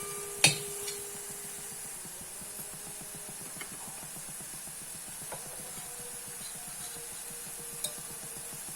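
Dal tempering with coriander powder and asafoetida is sautéed in a pan, with faint sizzling and soft, rhythmic scraping under a quiet hiss, opened by one sharp clink of the utensil.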